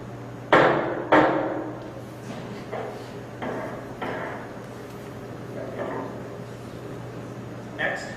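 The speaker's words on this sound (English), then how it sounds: "fold the flap over and use a hammer to smash the tissue" A hammer strikes a folded DNA sample card to smash tissue onto it, with two sharp loud blows near the start followed by several lighter taps spaced through the rest.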